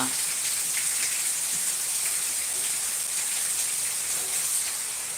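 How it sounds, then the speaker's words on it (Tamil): Steady rain falls in a constant, even hiss, close and unbroken throughout, with no distinct drops standing out. "மழை சத்தம் கேட்குதுங்களா"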